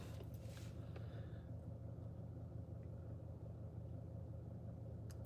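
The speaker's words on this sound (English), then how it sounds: "maybe you're just hearing the car because the car is on, the car engine." A parked car with its engine running, a low steady rumble that holds throughout at modest level, with a few faint clicks on top and no speech.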